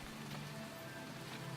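Rain falls steadily in the Starbound video game as a soft, continuous patter on surfaces, quiet and uniform with no voices present.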